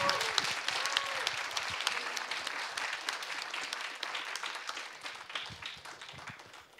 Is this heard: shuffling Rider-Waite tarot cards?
no